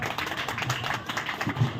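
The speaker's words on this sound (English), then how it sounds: "Let's give them a round of applause." Audience applause at a school graduation ceremony, a short burst of scattered clapping, moderately loud and close.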